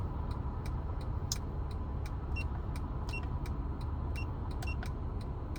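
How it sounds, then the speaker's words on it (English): A car's engine and road noise hold as a steady, moderately loud rumble from start to end, with scattered sharp high ticks over it. No clear fade is audible. "There goes the car."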